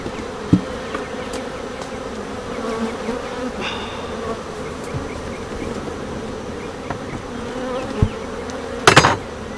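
Honeybees hum steadily and loudly around a hive box during a nectar dearth, a dense continuous drone close by, with a few knocks and clunks of the box and a louder clatter near the end.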